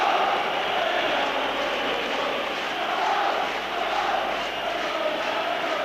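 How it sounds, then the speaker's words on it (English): Rangers football supporters fill a stadium with a steady, dense roar of crowd noise that swells slightly and holds for several seconds, broad and continuous with no single voice standing out. "So the noise building up again among the Rangers supporters."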